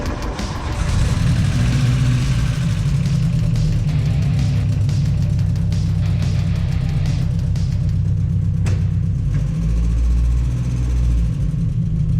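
A VW MK2 Golf winter beater drives along, its engine a loud, steady, low droning hum with a brief change near the end and no talking.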